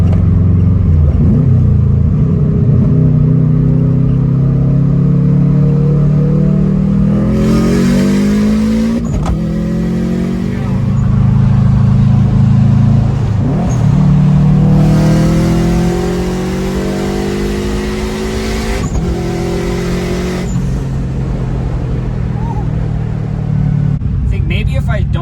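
A turbocharged, STI-swapped Subaru Forester with a catless turbo-back straight pipe accelerates hard through several gears, its loud engine note climbing and dropping at each shift, with passengers talking over the roar throughout.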